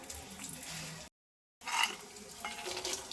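Chana dal and peanuts fry in about a spoonful of refined oil in a pan, a steady close sizzle with light stirring scrapes. A brief silent gap falls in the middle, then the sizzle resumes a little brighter.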